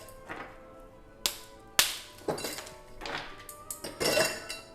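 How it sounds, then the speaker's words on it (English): Ice for a cocktail is broken up in a glass or shaker, giving a series of sharp clinks and cracks spaced irregularly, close and fairly loud, with no talking. "And to break up our ice,"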